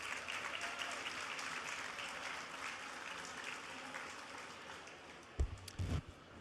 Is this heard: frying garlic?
no